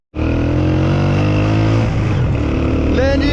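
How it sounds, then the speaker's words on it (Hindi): A motorbike engine runs steadily and loudly from the start of a ride on the road from Rawalpindi toward Skardu, with a constant droning hum and a faint rising whine near the end. "लेकिन जी बाइक के सफ़र का आगाज़ हो चुका है"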